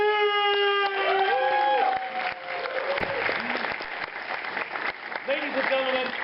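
Audience applause and cheering at a film festival screening announcement, a dense roar of clapping with whoops rising after an opening stretch dominated by a swooping voice-like tone and talk, continuing loudly to the end.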